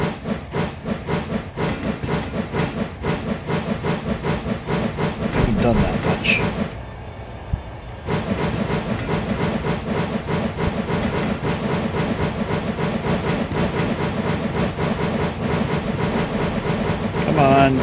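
A train in a Minecraft railroad mod drives along with a loud, continuous mechanical chuffing and hiss and a brief dip partway through, while someone talks over it.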